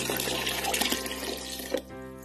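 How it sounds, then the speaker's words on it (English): Water poured from a tap or jug into a large soup jar for pasta e fagioli, a loud steady close stream that cuts off near the end, with no voices over it. "So I need to add 12 cups of water to it."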